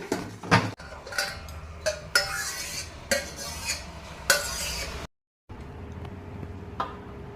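Hot boiled liquid for making Trichoderma is stirred in a tub to cool it, with regular scraping strokes about once a second, a brief silence, then quieter stirring. No voices.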